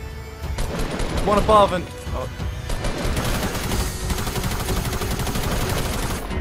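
Covering gunfire in a video game, rapid sustained bursts of shots rattling steadily under someone shouting over the noise.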